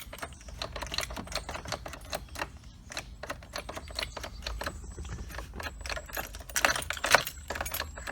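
Metal keys jangle and clink in a rapid, irregular series of sharp taps, close by, with no talking.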